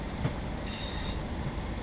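A train in Train Sim World 6 departs Blackpool North station, rumbling and rattling along rails at moderate volume, a steady rolling clatter with a few faint clicks and no talking.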